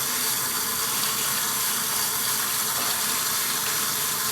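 Running water hisses steadily and closely over a rusty wheel rim as it is rinsed, a continuous bright spray without voices.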